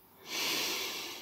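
A single close, audible breath drawn in and let out through the nose, a short airy hiss lasting about a second.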